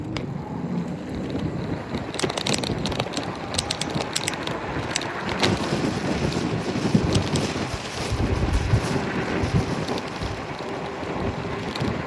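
Steady wind buffeting a microphone during an e-bike ride, a continuous rushing roar with faint mechanical rattles and occasional clicks throughout, no speech.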